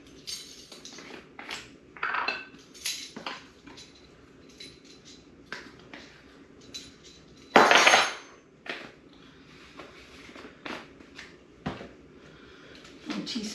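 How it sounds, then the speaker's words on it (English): Metal measuring spoons clink lightly against a bowl or jar while ground cinnamon is spooned out in a home kitchen, with scattered soft taps and one louder clatter. "Now we're going to do 2 teaspoons of cinnamon."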